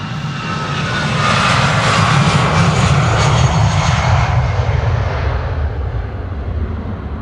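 A Lufthansa airliner in Star Alliance livery departs from Schiphol's Polderbaan runway, its engine roar swelling loud and steady for several seconds before easing slightly as it climbs away.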